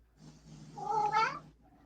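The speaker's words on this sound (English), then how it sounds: "I hear a kitty." A cat meows once, a drawn-out, slightly strained call at close range in a quiet indoor room.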